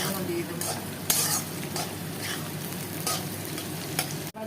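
Chopped green chillies sizzle in hot oil in a pan while being stirred for chowmein, a steady close frying hiss broken by scraping spatula strokes and light metallic clinks.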